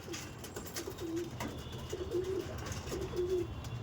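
Andhra racing pigeons in a loft coo in soft, repeated rolling phrases over a low, steady background murmur, close and continuous.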